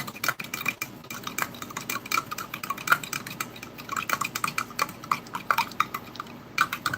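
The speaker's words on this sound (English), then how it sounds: "I'm going to give it a good stir." A utensil stirs US MRE chicken stew from a 1993 ration pouch, with steady scraping, clinking and wet sloshing in irregular close strokes, no talking.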